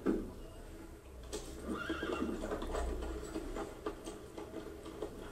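Horse neighs and whinnies in Assassin's Creed Unity, with hooves clip-clopping at a steady walking rhythm, fairly close, over low ambient rumble with no talk.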